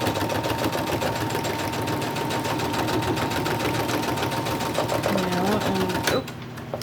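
A sewing machine runs continuously at close range, stitching lace along the edge of a folio journal cover, with a steady rapid needle rhythm before stopping abruptly near the end.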